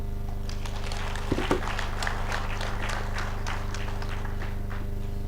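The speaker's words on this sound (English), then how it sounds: "You can clap to ourselves." An audience at a national validation workshop applauds, a steady mass of overlapping claps with a low hum beneath and no voices over it.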